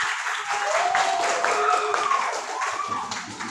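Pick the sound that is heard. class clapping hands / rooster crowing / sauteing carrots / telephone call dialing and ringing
class clapping hands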